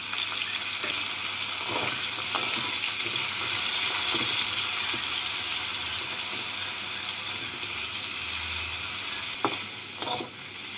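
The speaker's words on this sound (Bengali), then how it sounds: "এবার বেগুনগুলোকে ভেজে নিচ্ছি" Eggplant pieces fry in hot oil in a wok with a loud, continuous sizzle and crackle that stays close and even, with a few faint utensil taps near the end. No speech.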